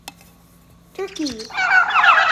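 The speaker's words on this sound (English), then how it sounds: "Turkey." A turkey gobbles once after a quiet moment: a warbling call that swells into a loud, rattling burst that carries to the end.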